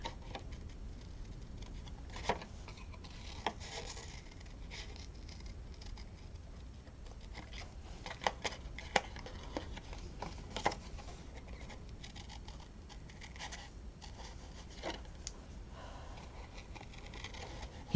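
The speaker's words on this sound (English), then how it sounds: "now we're going to cut out the rest of the butterfly" Scissors snipping around a paper butterfly shape for a handmade 3D butterfly card, a steady run of soft, close clicks and crisp snips with brief pauses, quiet and without talk.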